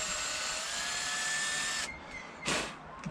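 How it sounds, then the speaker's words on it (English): A steady high-pitched whine of a small drill bit boring into a fishing lure body, running continuously, then stopping, followed by a brief scraping burst near the end. "I just dig this out with a drill bit"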